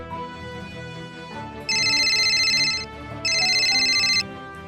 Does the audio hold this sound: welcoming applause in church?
no